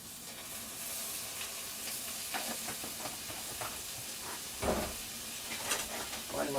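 A dash of water hits a hot frying pan holding food topped with cheese on an off-grid log cabin stove, giving a steady close sizzle and hiss with a few louder bursts and faint clatter.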